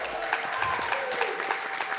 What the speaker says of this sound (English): Let's go ahead and give him a nice clap here.